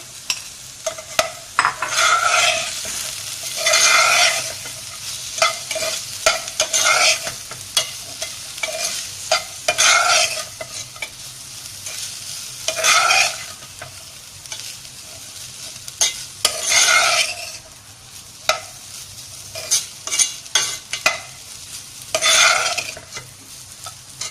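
Chicken being sautéed in a pan, with repeated scraping stir strokes in bursts over a steady, close sizzle throughout. No one speaks.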